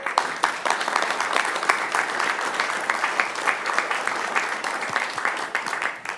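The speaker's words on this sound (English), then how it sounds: "Please give him a round of applause." A city council meeting audience in Chula Vista gives an honoree a round of applause, an even wash of many hands clapping at moderate level that holds steady for several seconds.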